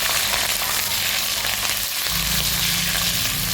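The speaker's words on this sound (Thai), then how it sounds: "น้ำมันร้อนเราก็จะเอาหนังไก่ลงไปเลยนะคะ" Chicken skin dropped into hot oil in a pan, a loud, continuous crackling sizzle close up, with a dense hiss that barely wavers throughout.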